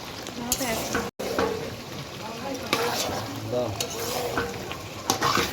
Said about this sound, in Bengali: এটা টমেটো দিয়ে এখন কষানো চলবে